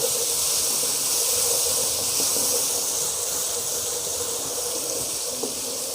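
Water poured into masala frying for Amritsari chole hisses and sizzles steadily in the pan, a continuous broad steamy hiss with faint crackles running throughout.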